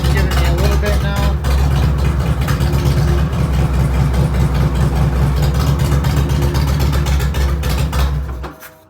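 A Harley-Davidson motorcycle engine idles roughly and loudly up close, a dense, steady low rumble with uneven pulsing that holds for most of the span before fading away at the very end.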